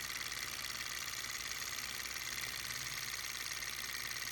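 A steady, quiet mechanical hum of a small engine running continuously, with a soft rhythmic whir and no voices.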